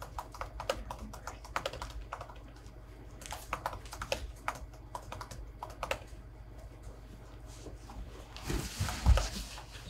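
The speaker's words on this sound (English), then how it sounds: "You're typing it up." Typing on a computer keyboard at a Concord planning board meeting, a steady run of quick, moderately close key clicks with brief pauses, a louder clatter near the end, and a faint hum behind.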